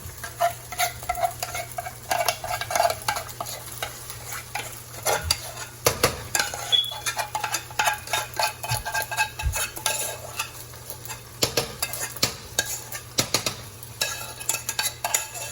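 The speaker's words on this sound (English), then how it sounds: "I'm gonna take my remainder of my macaroni noodles and put those in the skillet" Macaroni noodles and cheese sauce are stirred in a skillet with a utensil, making repeated wet scraping and clacking strokes over a low steady sizzle, close and continuous with no talking.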